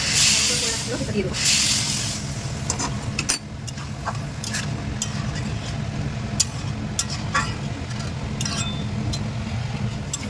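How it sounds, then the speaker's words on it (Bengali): Hot water poured into a khichdi tempering hisses and sizzles loudly at first, settling into a steady, close bubbling sizzle with small pops over the following seconds; a voice speaks faintly under it. "আমি এর মধ্যে এবার গরম জল করে রাখা ছিল সেটা দিয়ে দেবো"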